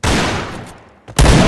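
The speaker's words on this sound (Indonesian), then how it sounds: "Lihat, gak kena-kena tembakan gua tuh." Gunfire in the Point Blank shooting game: a dense burst of rapid shots, a short lull with a faint tail, then another loud close-up volley.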